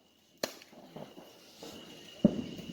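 Backyard fireworks set off in early July, a few sharp popping bursts heard at moderate distance, with a louder crack near the end and quiet rustle between.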